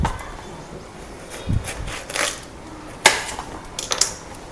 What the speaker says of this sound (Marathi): ते आता मी चिरून घेणार आहे. त्याचे बारीक बारीक तुकडे करून घेणार आहे.